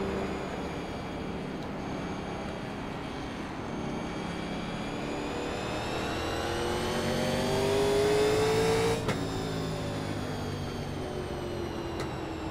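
NASCAR stock cars in the iRacing video game at North Wilkesboro roar steadily as they accelerate, a dense engine drone whose pitch climbs, peaks and then drops as a car passes close by.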